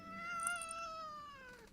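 A pet cat, recently spayed and still getting used to domestic life, gives a single drawn-out, slightly falling meow while being held, close and fairly quiet.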